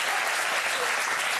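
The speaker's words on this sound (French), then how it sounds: "Quand il y a des applaudissements, on ne vous entend pas." A French television studio audience applauds in a dense, steady wash of clapping, loud and continuous for the whole short stretch, with no voices standing out.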